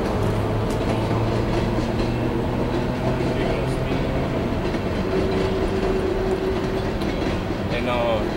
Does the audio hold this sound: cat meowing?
no